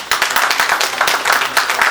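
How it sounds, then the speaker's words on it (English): A ceremony audience at IPID Atlanta 2014 gives a big round of applause, with loud, close, crisp claps in a quick, dense rhythm that runs for about two seconds with no talk over it. "Please give me a big round of applause."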